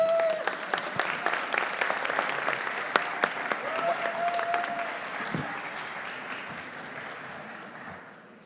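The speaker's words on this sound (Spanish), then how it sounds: "Por favor, un fuerte aplauso para Ana Piñeras." Sustained applause from a conference audience at a technology event in Bogotá, dense steady clapping that fills the room and slowly fades out, with some faint voices underneath.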